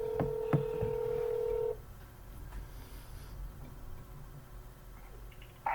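Telephone tones play as a call is transferred through a township's automated phone menu: a short run of clear beeps and a sustained tone in the first two seconds, then a quiet line hiss, with a brief click at the end.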